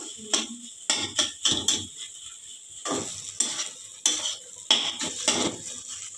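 Cauliflower frying in a pan while a utensil stirs it, giving repeated close scraping and clinking strokes in short bursts over a soft sizzle, with no talking.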